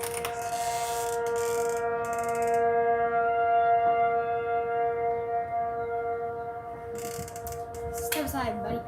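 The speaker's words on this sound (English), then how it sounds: "Tornado siren's going off." An outdoor tornado siren sounds a sustained, loud, steady tone with rich overtones that holds for several seconds, then falls off as nearby rattling and clicking noises close in at the end.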